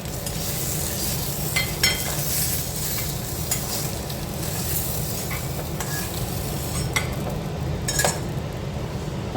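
Eggs fry in oil in a pan over low gas, a steady close sizzle and crackle with occasional light clinks of a utensil, no voices.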